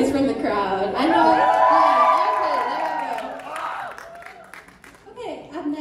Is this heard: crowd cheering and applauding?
yes